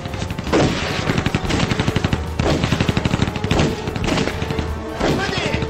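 Rapid bursts of machine gun and rifle fire in a battle scene from a war drama about the resistance against Japan, dense rattling volleys with heavy thuds, loud and close throughout.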